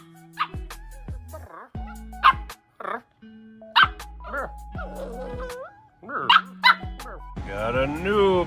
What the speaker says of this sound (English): You know, we got 2 dogs now.